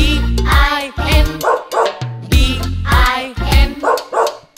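A cartoonish dog barks in a repeated bow-wow pattern inside a children's nursery rhyme song about a farmer's dog, with bursts falling in rhythm with the music, loud and up front.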